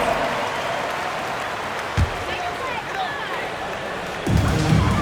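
Steady roar of a large video game basketball crowd in NBA 2K26 with scattered clapping and cheering, swelling louder toward the end.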